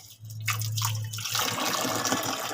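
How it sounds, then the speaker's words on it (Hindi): Tap water runs steadily as hands are washed at home, a broad splashing wash that starts after a brief low hum and continues close by, with no talk. "हैंड वॉश कर लेती हूँ"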